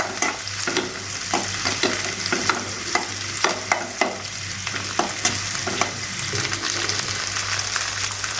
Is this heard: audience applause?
no